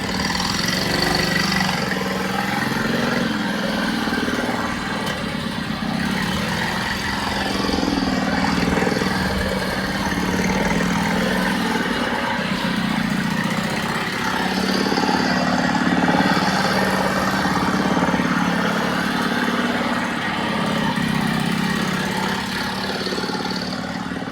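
Racing car engines played back from a quadraphonic demonstration record, a steady loud mid-range engine roar with surging revs that swells and recedes throughout, as if cars circle around the listener on a race course.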